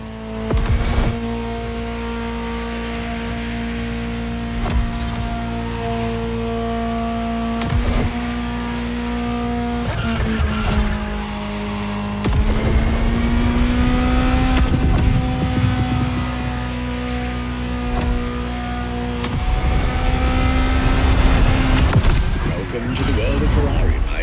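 A high-revving Ferrari supercar engine in the video game The Crew Motorfest roars and whines continuously, shifting pitch as it accelerates through gears, loud and close throughout.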